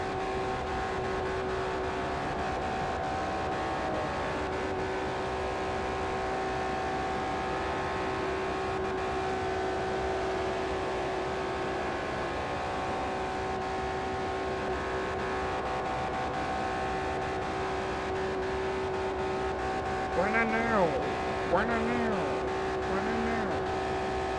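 A racing car engine in Forza Motorsport 4 during a Tuners of Japan speedway event, a steady sustained drone at high revs running throughout, with a brief rising and falling whine near the end.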